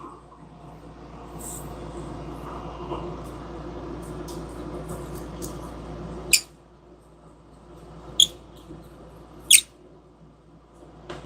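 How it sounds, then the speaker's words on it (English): A fly-tying bobbin squeaks while fishing jigs are tied, giving three sharp, brief squeaks spaced a couple of seconds apart near the end, after a stretch of low room noise and quiet talk. "This bobbin has the squeaks."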